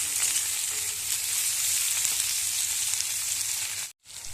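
Egg and green chillies fry with small fish in a pan, giving a continuous close sizzling hiss throughout that drops out briefly just before the end, with no one talking.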